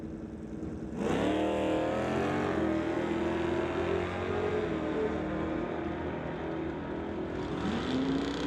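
Drag race cars, a 1981 Chevrolet Malibu against a Chevelle, launch off the line with a loud, sustained engine roar that climbs in pitch as they accelerate away, with no talk over it.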